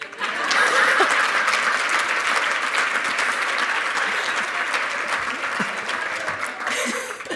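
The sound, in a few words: audience applause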